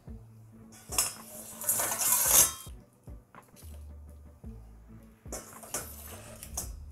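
Baked salt crust being broken off and lifted from oven-roasted pork belly in large chunks: close, crunchy scraping and crackling in two main bursts with quieter clinks and knocks between.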